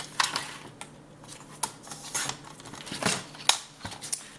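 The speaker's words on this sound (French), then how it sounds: "je vais couper ici pour mon 1 cm de couture" Scissors cut paper for a scrapbooking accordion folio, making a quick series of close, crisp snips and rustles in uneven rhythm, with no voices.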